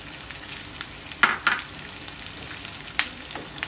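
Green and yellow zucchini with other vegetables stir-fry in a hot pan for pasta, giving a steady close sizzle with a few sharper spatters and stirring scrapes.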